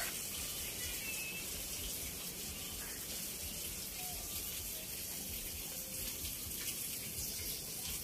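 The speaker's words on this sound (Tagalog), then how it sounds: "yan na po yung ating tubig na nanggagaling po diyan sa may bangka" Water runs steadily from a boat-shaped vessel during the cooking of lambanog, coconut nipa wine, a constant hissing flow heard alone with no voices.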